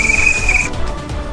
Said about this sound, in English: if I whistle once and raise the blue flag